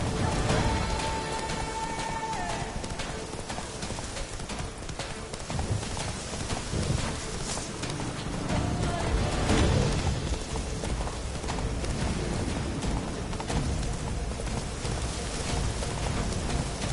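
Roach, a horse in The Witcher 3: Blood and Wine, gallops through rain, a steady clip-clop of hooves running under a constant hiss of rainfall, with faint thunder mixed into the dense wash of sound.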